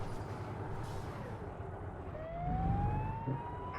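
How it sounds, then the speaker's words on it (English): A video game police siren in American Truck Simulator wails faintly in the distance, its pitch sliding steadily upward over a dense, rumbling truck engine drone. "Now you will hear police sirens, because yes, there's a mod which now has police sirens in it"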